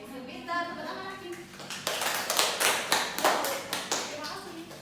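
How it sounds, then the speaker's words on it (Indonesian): A fifth-grade classroom breaks into group applause, a burst of many hands clapping in quick irregular rhythm at close range, following brief speech at the start. "Tepuk tangan lagi."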